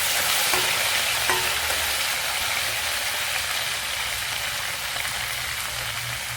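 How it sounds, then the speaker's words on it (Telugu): Curry leaves and coriander sizzle in hot oil for a brinjal and drumstick tamarind curry, a dense, steady crackling fry with a couple of brief pops early on, close and continuous. "ఇప్పుడు కరివేపాకు, కొత్తిమీర వేసేద్దామండి."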